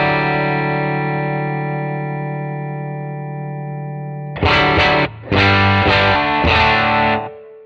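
An electric guitar with PRS 594 humbucker pickups, played through an Analogman King of Tone capture into a 67 Deluxe amp, rings out in a long sustained driven chord, then bursts into several loud, gritty strummed chords.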